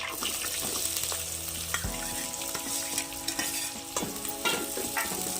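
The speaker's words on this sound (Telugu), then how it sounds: "ఈ ఆనియన్స్ని డీప్ ఫ్రై చేయాలి." Sliced onions deep-frying in hot oil with green chillies, cinnamon and cloves, a continuous crackling sizzle with scraping stirs and clinks, close and fairly loud, no voices.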